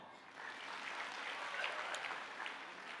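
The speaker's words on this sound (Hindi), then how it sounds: "बहुत सुंदर बोली आपने, एक बार ताली बजाओ।" An audience at a spiritual discourse breaks into steady applause, a dense patter of clapping that stays even and fairly faint for a few seconds.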